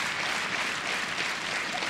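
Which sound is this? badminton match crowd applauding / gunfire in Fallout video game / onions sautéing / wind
badminton match crowd applauding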